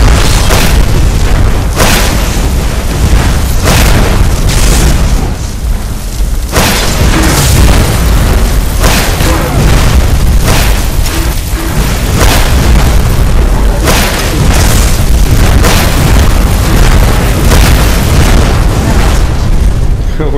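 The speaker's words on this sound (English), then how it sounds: "Let's blow them up with some fire staffs." Fire staff explosions in Skyrim Remastered erupt one after another as booming blasts, a dense, continuous barrage of loud bursts with heavy low rumble lasting the whole stretch.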